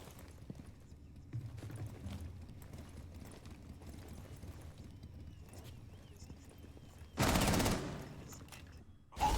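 Gunfire in a Rainbow Six Siege collegiate esports match: faint scattered shots under a low game bed, then one sudden loud burst of rapid fire near the end, cut off abruptly.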